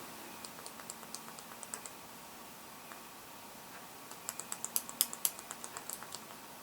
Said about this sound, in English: So that was 9 clicks